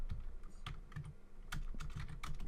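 Quick, steady keystrokes of code being typed on a computer keyboard, close and clear, with uneven bursts of clicks and no talking.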